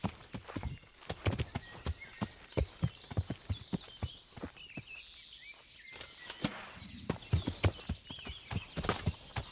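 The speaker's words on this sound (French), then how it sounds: "J'y vais à cheval, hein." In the video game Kingdom Come, a horse's hooves beat out a quick, even clip-clop at close range. Birds chirp faintly in the background.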